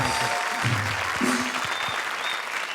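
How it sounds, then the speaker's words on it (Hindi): Studio audience applause on a televised comedy show, a brief burst of steady clapping with a few voices and musical tones faintly underneath. "जोरदार तालियां।"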